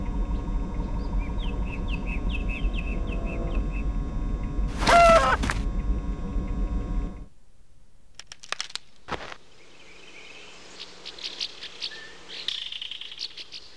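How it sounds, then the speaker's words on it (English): Chirping bird calls in the Star Trek: The Next Generation – A Final Unity video game, several quick tweets over steady game background music before the scene goes quieter. "What a beautiful bird."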